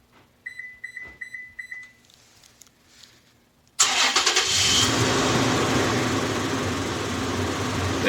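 A 5th-generation Toyota 4Runner engine cranks and fires via an aftermarket remote start, preceded by faint lock chirps and light rustling, then settles into a loud, steady idle close by.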